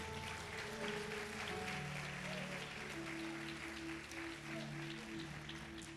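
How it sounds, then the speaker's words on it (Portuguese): A church congregation applauds during a worship service, a steady wash of clapping that holds for several seconds over sustained musical tones. "Dê um aplauso a Jesus."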